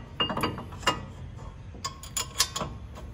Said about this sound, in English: So let's install this caliper bracket back into the assembly.